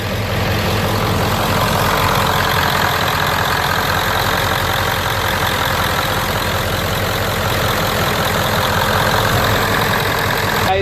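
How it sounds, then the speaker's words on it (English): A 1997 Ford F-250 with a 7.3L diesel idles continuously up close before an engine flush, a loud, steady clattering rumble with a rapid knocking rhythm and no break. "I'm gonna let you guys hear what she sounds like before and after. This is before."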